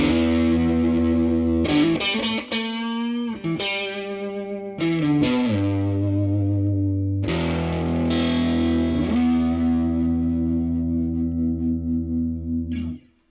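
Electric guitar fitted with a metal Telecaster pickguard, played through heavy distortion: sustained chords and short riffs ring out close and loud, with a few brief gaps and changes, and no talking.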